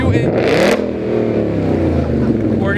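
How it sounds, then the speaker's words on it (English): A Ford Mustang engine revs in a rev battle among Mustangs on a canyon outing, a loud, rumbling roar with a sharp burst near the start, then a sustained droning engine note with people talking over it. "do a quick rev battle between the Mustangs for you, since we have all three kinds here"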